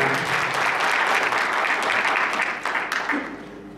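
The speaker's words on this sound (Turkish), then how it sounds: "kocaman bir alkış istiyorum" Audience applause at a book publisher's first anniversary celebration, a full steady round of clapping from a large crowd that holds strong and then tapers off near the end.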